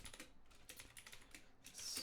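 Python code being typed on a computer keyboard, a quick, steady run of close key clicks filling the whole short stretch with no talk.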